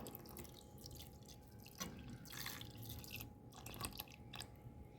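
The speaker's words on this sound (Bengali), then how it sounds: "এবার দুধটাকে ঢেলে দেওয়া হচ্ছে" Milk is poured into a mixture of powdered milk while making winter pitha, giving a faint, steady liquid trickle with soft drips, heard close and quiet with no talking.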